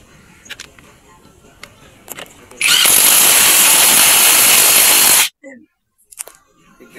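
Ratcheting power tool drives a timing chain bolt with a 17mm socket in one loud, steady burst of about two and a half seconds, preceded and followed by faint clicks and handling noise.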